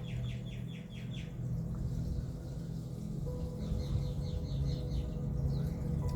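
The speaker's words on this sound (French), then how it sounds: "les oiseaux chantent" Birds sing outdoors under a clear morning sky after a night of rain, with short repeated chirping phrases standing out near the start and again later over a steady low background hum.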